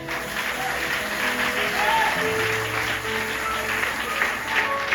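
A church congregation claps and cheers in worship during a pastor's sermon, with sustained dense applause and scattered voices calling out over a droning musical background.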